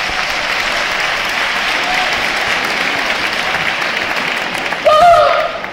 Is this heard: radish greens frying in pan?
no